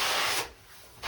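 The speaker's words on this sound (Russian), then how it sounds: "берем и снимаем губкой." A sponge rubs excess decorative plaster off a bathroom wall in a steady, close abrasive scraping. It pauses briefly partway through, then resumes, with no talking.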